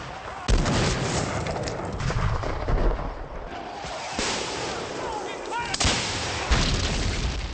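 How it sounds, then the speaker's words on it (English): Civil War cannon and artillery fire in a forested battle, heavy booms repeating every second or two over a continuous roar of gunfire, loud and close, with a narrator speaking over it. "The biggest tree afforded no protection from those cannons."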